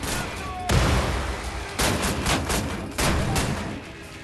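Shotgun blasts in the video game Wolfenstein on PS4: three loud, close booming shots a second or so apart, each with a short decaying tail over game background noise.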